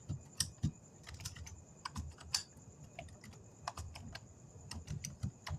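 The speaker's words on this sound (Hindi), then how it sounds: "मैं लिखता हूँ इसमें हिमांशु, और अब मैं अगर प्रिंट करता हूँ" Rapid, close keystrokes on a computer keyboard as Python code is typed, irregular bursts of clicks with brief pauses and no voices.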